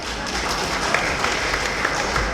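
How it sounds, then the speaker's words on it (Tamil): Audience applause at a Tamil speech event, dense continuous clapping from a crowd, loud and even throughout with scattered sharper claps. "அப்படிப்பட்ட கைதட்டுங்க சார்."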